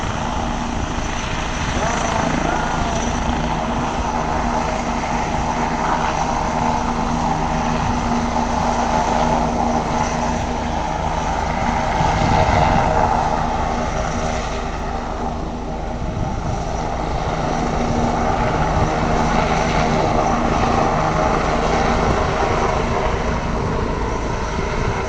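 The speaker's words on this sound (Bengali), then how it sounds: "হেলিকপ্টার না?" A helicopter flies overhead, a steady, loud rotor and engine roar that swells slightly mid-way and holds throughout, with people talking beneath it.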